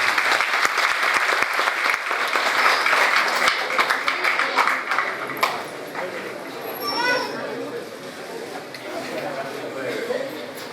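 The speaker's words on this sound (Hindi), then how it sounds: "जोरदार उनका स्वागत कीजिए ताली से" An audience at a devotional gathering gives loud, sustained applause to welcome a speaker, dense clapping that fills the first half and gradually thins, with a voice speaking near the end.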